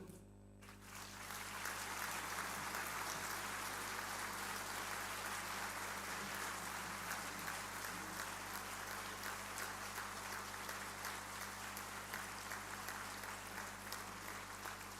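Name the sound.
audience applause at a graduation ceremony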